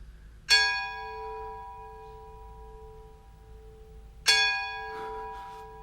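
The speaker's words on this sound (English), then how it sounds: "The bell invites me." A deep church-style bell tolls twice on a theatre stage during a Macbeth production, each strike ringing out clearly with a long, slowly decaying hum and a pause of several seconds between them.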